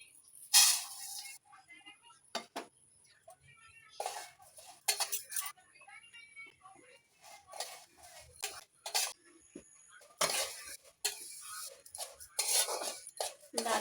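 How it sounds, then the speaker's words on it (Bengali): Golden mung dal dry-fries in a wok, with metal spatula scrapes and clinks arriving in irregular bursts, close but light, separated by quiet gaps, no talking. "ডালটা ভাজা চলছে, সোনা মুগ ডালটা।"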